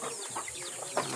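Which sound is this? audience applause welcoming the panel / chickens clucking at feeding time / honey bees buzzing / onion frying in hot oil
chickens clucking at feeding time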